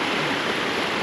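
A waterfall pours over rocks into a stream, giving a steady, dense rush of water that stays close and even throughout the brief moment with no voices.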